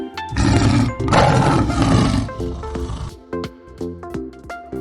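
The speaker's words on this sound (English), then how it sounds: "The sound of lion." A lion roars in a long, loud, broad rumble lasting about two seconds, then fades into lighter tonal background sound with no speech.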